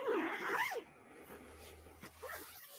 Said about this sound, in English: Zips.